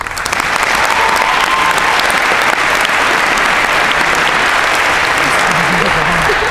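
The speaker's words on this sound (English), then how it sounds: "Every sport deserves a big round of applause for a great year it's been." Sustained, dense applause from a large crowd at a school pep fest fills the gym, loud and steady throughout with no break.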